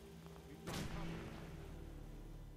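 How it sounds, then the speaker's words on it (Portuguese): A single sharp gunshot-like blast from the video game Fallout 4 rings out over a steady low electronic hum, then fades with a lingering echo. "Ouço tiros."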